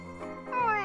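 A kitten lets out a single short meow, rising and strained, close and fairly clear with nothing else around it.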